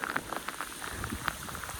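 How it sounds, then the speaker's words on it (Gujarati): Heavy morning downpour patters on surfaces nearby, a constant rush of rain dotted with sharp individual drop hits, with no voices. "ફરતે વરસાદ છે જોરદાર"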